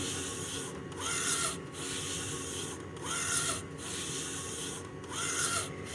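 An HP Designjet 500 printer printing slowly in high-quality mode makes a steady mechanical whir with the carriage sweeping back and forth in a regular rhythm, each pass rising and falling in loudness.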